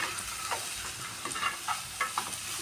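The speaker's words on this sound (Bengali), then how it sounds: "এর মধ্যে আমি কাজু কিশমিশটা একসাথে ভেজে নেব।" Cashews and raisins frying together in a pan over low gas, with a steady sizzle broken by repeated scraping and stirring strokes at close range.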